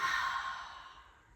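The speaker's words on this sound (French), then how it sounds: "Bloquez la respiration, ouvrez la bouche et relâchez." A single deep exhale released through an open mouth during a yoga breathing exercise, loud at first and tapering off as the breath empties over about a second and a half.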